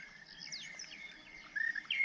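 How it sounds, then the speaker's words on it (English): Monotonous larks call repeatedly in a wet-season African park at Mapungubwe, thin high whistles and chirps carrying over a soft, steady outdoor hush with no talk. "Monotonous larks."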